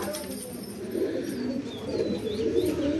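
Aboluk pigeons coo steadily in a loft, a low continuous murmur of several birds close by, with faint chirps above.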